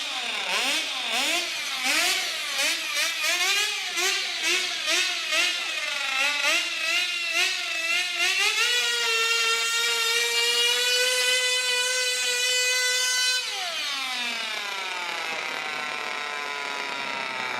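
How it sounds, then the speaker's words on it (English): A micro mini pulling tractor engine buzzes loudly and close, revving up and down in quick repeated pulses before holding a high, steady whine and then dropping off. "Micro mini tractor pulling, Philip."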